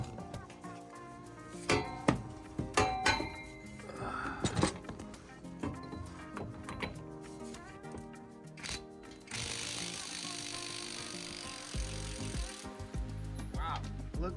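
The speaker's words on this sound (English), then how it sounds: "I'm gonna try out my Harbor Freight Impact 1/2 inch" Tools clink and clatter while a person speaks. Then a Harbor Freight 1/2 inch impact wrench hammers loudly for about three seconds, taking a bolt off the rear end of a 2011 Ford Mustang GT, and a short buzz follows.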